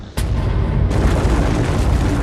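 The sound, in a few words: star explosion sound effect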